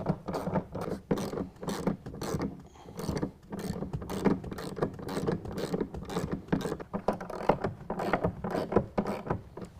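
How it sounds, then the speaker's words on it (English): Bolts on a DECKED truck bed storage system in a 2016 Toyota Tacoma are tightened down with a ratchet, making repeated quick clicking strokes in bursts with brief pauses, close and moderately loud. "We're going to go ahead and tighten these bolts down."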